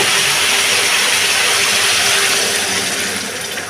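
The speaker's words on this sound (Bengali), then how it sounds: "সামান্য একটু জল দিলাম।" Water poured into a hot pan of lightly fried vegetables, potato and pointed gourd, gives a loud steady hiss that fades slightly toward the end.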